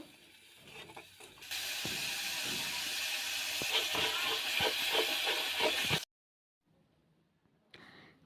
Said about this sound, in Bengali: এটাকে একটু ভালোভাবে নাড়তে হবে আর না হলে নিচে লেগে যেতে পারে তাই একটু ভালোভাবে নাড়তে থাকবো